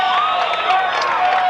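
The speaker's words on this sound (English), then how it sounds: "the Laconia crowd's getting vocal" A crowd at a 1991 high school football game between Somersworth and Laconia roars and cheers steadily, a loud, sustained wash of voices with no break.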